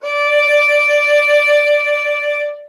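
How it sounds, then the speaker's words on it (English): A single sustained violin note played with vibrato, loud and clear, held steadily for about two and a half seconds with no other sounds. "And if you play vibrato, you're wiggling your finger."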